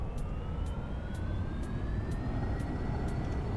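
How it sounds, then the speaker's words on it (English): A jet aircraft on max afterburner in X-Plane 11 produces a steady, dense roar with a rising engine whine that climbs in pitch across the whole stretch, and it continues without a break. "Max afterburner."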